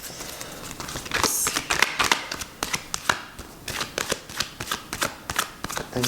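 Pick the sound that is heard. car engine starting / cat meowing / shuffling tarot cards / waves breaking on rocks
shuffling tarot cards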